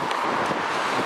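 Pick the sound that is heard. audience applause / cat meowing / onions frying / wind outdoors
wind outdoors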